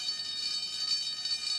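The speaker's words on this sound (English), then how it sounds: "The alarm has sounded!" A fire alarm sounds as a steady, shrill electronic buzz that holds at an even level for its short duration, with no pauses.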